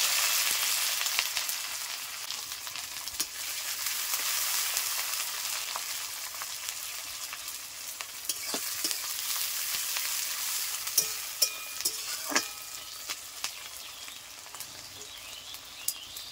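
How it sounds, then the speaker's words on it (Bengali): Chopped onions fry in hot oil on a clay stove, a steady broad sizzle running throughout, with occasional sharp pops and crackles growing more frequent toward the end. "তো আমার তেলটা গরম হয়ে গেছে, এবার দিয়ে দেবো পেঁয়াজ কুচি।"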